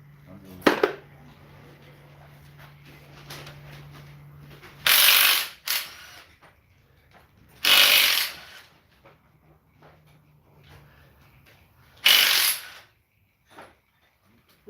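Spanner ratcheting on bolts of an engine in a home workshop: several loud, rapid clicking bursts separated by pauses, close up, with softer tool clinks in between.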